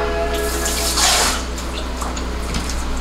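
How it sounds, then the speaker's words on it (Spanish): Tap water runs in a steady stream over a tomato as it is washed under the faucet, close and fairly loud, with a brief heavier splash partway through. "Le voy a echar un poquito más de agua por encima y listo, y lo lavo otro lado"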